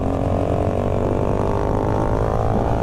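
A motorcycle being ridden, its engine droning at a steady loud level throughout with a constant rumble and no break.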